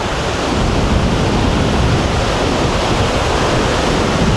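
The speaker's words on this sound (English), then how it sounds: "That is a really powerful waterfall right there." A powerful waterfall in Cao Bang, Vietnam, heard up close from its base as a loud, steady, unbroken roar of crashing water that fills the whole clip.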